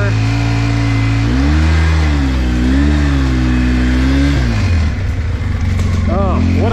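A lifted Polaris Sportsman 800 EFI ATV engine hums and revs steadily in low gear as it crawls through mud, the motor rising and falling in pitch, loud and close, with a person talking over it.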